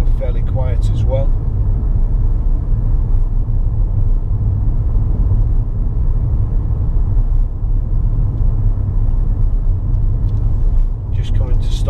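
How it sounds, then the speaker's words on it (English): Cabin rumble of a Ford Fiesta 1.0 EcoBoost Titanium driving over bumpy roads, a steady low road and engine drone with faint bumps, a voice speaking over it. "Very smooth ride along these bumpy roads, fairly quiet as well."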